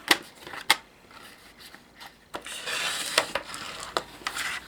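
Card stock being cut on a paper trimmer for a steampunk greeting card, giving sharp clicks and scraping slides close up, with a longer rasping cutting stroke near the end and no talking.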